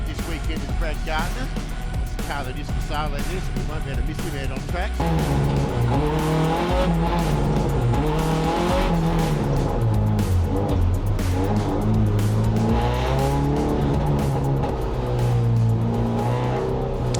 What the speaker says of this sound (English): you can see me coming into the shot and warming up my tyres